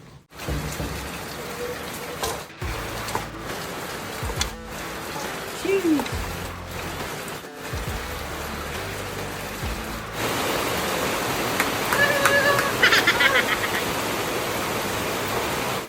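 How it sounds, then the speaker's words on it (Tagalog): Outdoor rain starting to fall, a steady broadband hiss of drops on surfaces that thickens and grows louder partway through, with brief clatter and movement sounds close by. "Wow! Umuulan na guys."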